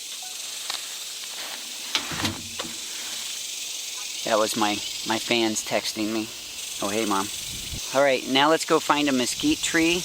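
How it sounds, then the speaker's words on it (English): Cicadas in a South Texas summer produce a constant, shrill high-pitched buzz that runs steadily in the background from start to finish, while someone talks over it. "You hear the cicadas?"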